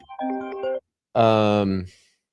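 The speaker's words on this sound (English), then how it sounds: "I was getting a phone call." An incoming call sets off a phone ringtone: two loud, close melodic bursts with a short silence between them.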